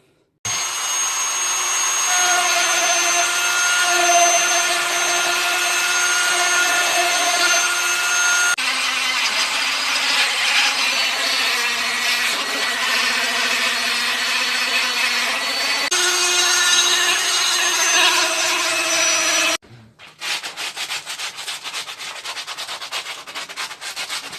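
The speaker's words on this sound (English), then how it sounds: "put a sanding burr on and just nip round these" A high-pitched rotary tool with a sanding burr whines steadily while rounding edges on a recycled wooden tabletop, its pitch shifting slightly as pressure changes, then a brief pause and rougher buzzing.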